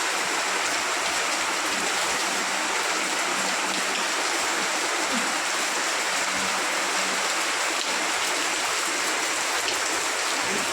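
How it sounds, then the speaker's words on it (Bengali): Heavy rain pours down in a dense, steady hiss that holds without break, close and fairly loud, with no voices. "দেখো বৃষ্টিটা পড়ছে পুরো সাদা।"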